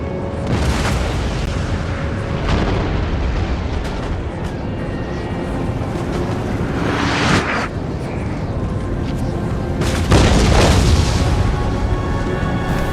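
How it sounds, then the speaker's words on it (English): Howitzer artillery in a Napoleon: Total War battle between Russian infantry and Dutch forces, heard as a dense, continuous rumble of booming cannon fire, with heavier blasts near 1, 7 and 10 seconds standing out from the constant roar. "is within my howitzer range, and thus I decided to take the chance open fire"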